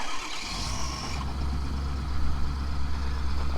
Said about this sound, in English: one last 250 cold start on the channel